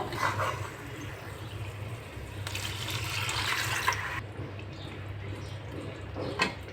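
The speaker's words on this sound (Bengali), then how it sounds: "এখন একটু নেড়ে চেড়ে তারপর আমি পানি দিয়ে দিব।" Water is poured into a chicken curry spiced with turmeric, chili, coriander and cumin powders. It makes a brief rushing, splashing burst over a low background hum, followed by a few faint drips and clinks. No talking.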